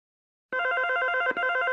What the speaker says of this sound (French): Sois gentille, ma chérie, réponds au téléphone.